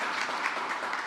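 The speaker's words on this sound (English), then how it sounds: "Give Lewis a round of applause." Applause at a presidential advisory commission meeting for Black Americans greets Lewis, a brief, faint, steady patter of many hands clapping with no voices.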